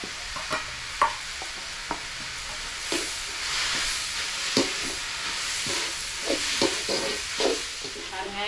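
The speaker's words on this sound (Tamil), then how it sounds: "வெங்காயம் இஞ்சி பூண்டு பேஸ்ட்டு எல்லாமே நல்லா வதங்கிடுச்சு" Onion and ginger garlic paste sauté in a pan as a steady soft sizzle, while a spatula scrapes and taps in irregular strokes, close and moderately loud, with occasional speech.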